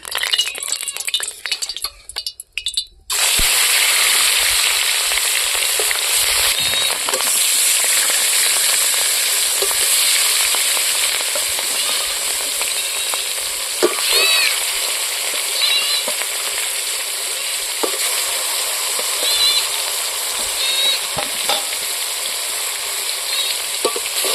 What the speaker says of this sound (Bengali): এখন আমি মাছগুলো ছাড়িয়ে দেবো তেলের মধ্যে